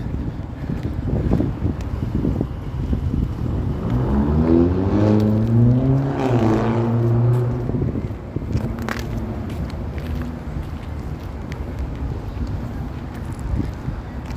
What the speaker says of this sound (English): How about the actual wind frosting your skin?